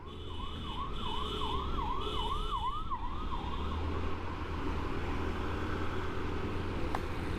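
An ambulance siren wails in rising and falling sweeps amid constant road traffic noise; the siren fades after a few seconds while the traffic rumble continues.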